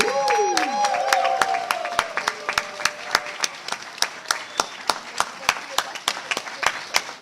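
An audience claps at the Strzelno poetry-and-song contest final, with a brief tonal voice or sound sweep at the start before steady applause continues, thinning into a looser, more distinct rhythm of claps.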